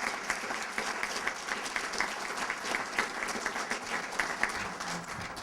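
Applause at a public service awards ceremony, steady clapping from a sizable audience with distinct individual claps throughout, moderately loud and sustained, without speech over it.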